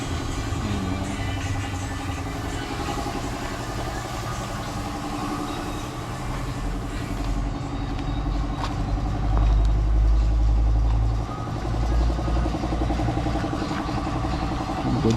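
A vehicle engine idles nearby with a steady low rumble that swells louder midway through, running continuously with no voices.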